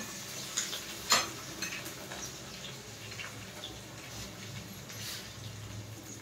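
Chopped ginger and green chilli sizzling in a pan for poha, a faint steady hiss broken by a few light clicks and stirring knocks near the start.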